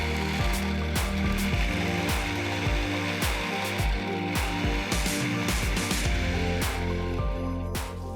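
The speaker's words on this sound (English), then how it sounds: "Lid goes on and I'm going to pulse it to start with and then give it a blend until it's finely" A food processor chops a mushroom mixture for porcini ravioli filling, running loud and close as a steady whirring churn broken by short rhythmic pulses, with no talking.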